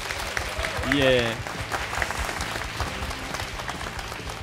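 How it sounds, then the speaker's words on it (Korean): An audience at a televised crowdfunding pitch event claps for the presenters on stage, with continuous, moderately loud applause while a voice briefly speaks over it near the start. "다시 한번 격려의 박수 부탁드릴까요?"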